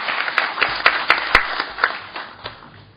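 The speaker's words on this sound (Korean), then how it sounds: "큰 박수 부탁드립니다" An audience at a government budget forum claps steadily, a dense round of applause with sharp individual claps standing out, fading slightly toward the end.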